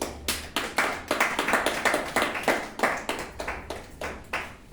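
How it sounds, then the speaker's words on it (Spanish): Church congregation clapping at a Sunday service, a fairly close, steady run of distinct claps with a rhythmic, almost unison pulse continuing throughout, with no talk over it. "Vamos a darle un fuerte aplauso al Rey"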